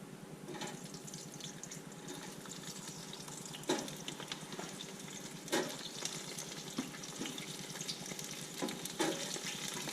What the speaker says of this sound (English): now we're going to flash fry these things for, I don't know, a couple minutes, 2-3 minutes